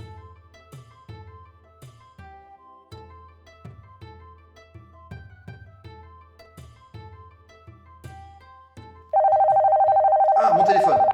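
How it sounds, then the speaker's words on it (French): A mobile phone rings with a looping melodic ringtone, bright chimed notes repeating in a steady pattern, then gives way to a louder, sustained electronic tone near the end. "Ah, mon téléphone."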